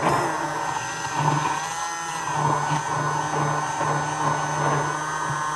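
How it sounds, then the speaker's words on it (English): A stick blender whirs steadily while emulsifying mayonnaise made from freeze-dried eggs, a continuous motor hum with slight shifts in pitch and load as it works, close and alone. "you have to keep your hand on the stick blender"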